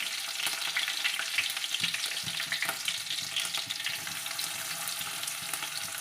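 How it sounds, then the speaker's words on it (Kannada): Cumin seeds and finely chopped green chili frying in hot oil in a pan: a steady, bright sizzle and crackle throughout, with occasional stirring scrapes and small pops, close and alone with no voices. "ಜೀರಿಗೆ ಹಾಕ್ಕೊಳ್ಳೇನ್ರಿ ಜೀರಿಗೆ ಪಟ ಅನ್ಬೇಕ್ರಿ"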